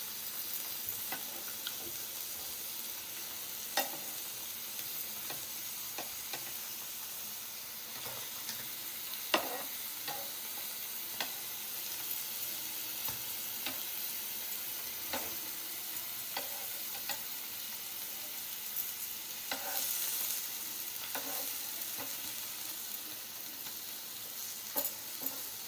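Paneer grilling in ghee in a pan gives a steady, close sizzle with crackling pops and occasional louder spits, continuing evenly throughout with no voices.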